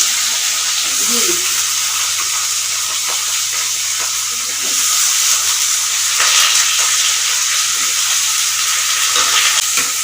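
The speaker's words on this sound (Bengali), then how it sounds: "এবার একটু ভাজতে হবে আলুগুলো" Diced potatoes fry in mustard oil with bay leaf, making an even hiss and sizzle throughout, with a few soft stirring scrapes and a low steady hum underneath.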